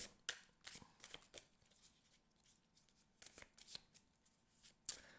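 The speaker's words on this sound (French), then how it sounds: "Je te sors 3 cartes pour une seule." Tarot cards shuffled by hand in quick bursts of papery riffling and sliding, with short pauses between and a few cards drawn and laid down, close and fairly quiet.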